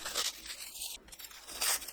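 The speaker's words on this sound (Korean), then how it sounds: "구운 김을 손으로 대충 찢어줍니다." Roasted gim laver sheets torn roughly by hand, giving close, dry crinkling rips in a few short bursts with brief quiet gaps between them.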